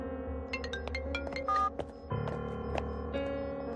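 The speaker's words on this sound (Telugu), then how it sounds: "రింగు వెళ్తుందయ్యా" Phone ringing on a call in a Telugu film scene: a series of sharp electronic beeps and tones, then a steady high ringback tone that carries on at low level, with no voices.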